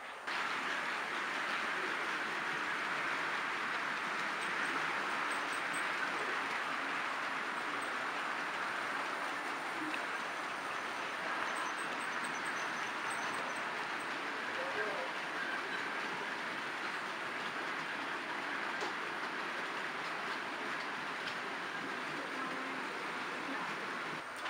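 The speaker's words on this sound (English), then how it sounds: "I think it's time to have a watch of some trains passing through Brentford Junction." OO gauge model railway trains roll through a junction on a layout, giving a steady, continuous rumble with faint clickety-clack of small wheels over track joints, running unbroken at an even level with no talk.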